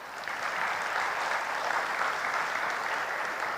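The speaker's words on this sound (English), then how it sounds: "I think they deserve a big round of applause" An audience applauds steadily and fairly loudly, with dense, sustained clapping from a large crowd that carries through to the end without pause.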